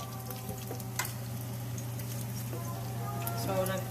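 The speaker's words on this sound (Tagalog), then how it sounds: "Frying will take 3 to 5 minutes." Squash fritters fry steadily in a pan with oil, giving a continuous soft sizzle and crackle with a few sharper pops, close and moderately loud, alongside a low steady hum.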